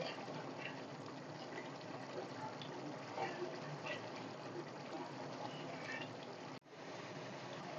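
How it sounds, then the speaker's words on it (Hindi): Minced meat keema sizzling and bubbling in a pan over high flame as its water cooks off, a steady soft frying hiss running throughout, with a brief handling clatter near the end. "अब हम इसकी भुनाई करेंगे अच्छे से, ताकि पानी खुशक हो जाए।"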